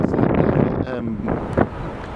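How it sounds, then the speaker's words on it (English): Wind gusting at a sandy spot near Glastonbury, a steady loud rush of buffeting against the microphone with a brief stronger gust, under an undercurrent of low rumble. "And it's a bit windy."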